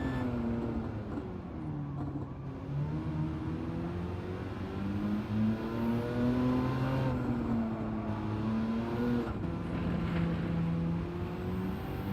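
Race car engine in Gran Turismo 7 held at high revs, a steady droning whine that rises and dips with gear shifts, mostly staying in third gear, continuous and loud throughout.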